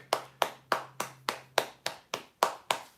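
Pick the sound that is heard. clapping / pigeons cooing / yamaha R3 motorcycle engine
clapping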